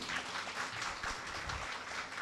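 An audience claps together at a gathering, a soft, distant, steady patter of applause lasting throughout.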